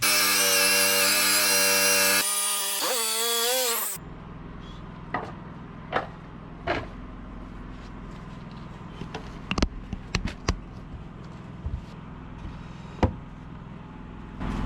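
A power saw cuts wooden porch posts with a loud, whining buzz for the first few seconds. It then cuts off, leaving a quiet stretch broken by scattered sharp knocks and taps of wood being handled.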